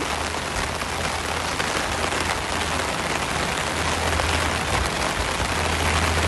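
Steady rain pattering down during a walk in Phuket, Thailand, between Boat Lagoon and the Royal Phuket Marina by the seaside, a dense even hiss with a low background hum, no voices.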